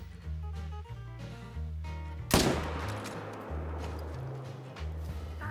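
A single loud, sharp rifle shot in the hunting video game theHunter: Call of the Wild cracks out midway, its report ringing and decaying over a low, droning background with stepped tones.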